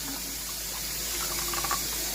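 Water is poured for cooking turkey dumplings, a steady hissing rush of liquid with a slightly bubbling texture that grows a little stronger toward the end, with no talk.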